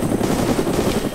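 Rapid automatic gunfire in DayZ rattles loud and close in a steady dense burst, with a helicopter-like drone underneath and no speech.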